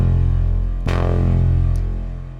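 A clean Diva synth tone with no drive or feedback holds a steady, bass-heavy sustained note, with a brief bright click partway through, loud and alone.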